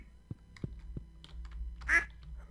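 A duck quacks once in the farm video game Stardew Valley, a short clear call late in the clip after a few soft clicks, with quiet low background hum.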